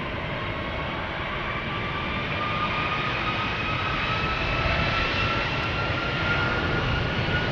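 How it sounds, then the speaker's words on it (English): Air Canada jet airliner taking off at Amsterdam Schiphol Airport, a constant loud engine roar with a whining high tone that swells slightly midway, with no talking. "Off it goes. Air Canada flight 809 to Toronto in Canada."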